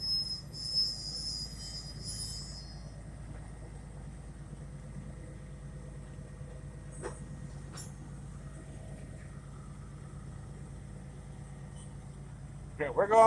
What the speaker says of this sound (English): Oh, we got a train movement.